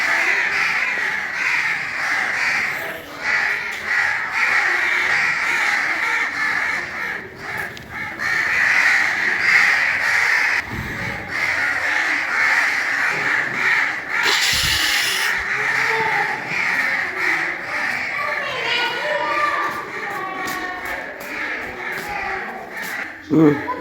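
Crows caw repeatedly in an outdoor family setting, harsh calls coming in bursts near and far, with intermittent background noise and a voice faintly present at times.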